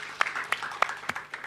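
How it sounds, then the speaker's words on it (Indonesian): Brief, sparse clapping from a church congregation during a Sunday worship service, a handful of separate claps heard fairly faintly. "Kita beri tepuk tangan dulu buat Tuhan Yesus."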